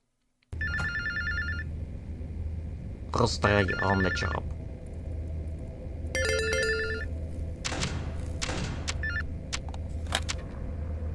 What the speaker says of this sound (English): and we're about to pick up the phone.